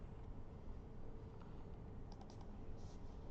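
Faint, quiet keystrokes on a computer keyboard sit under a steady broadband hum in a recorded lecture, with only a few scattered clicks standing out.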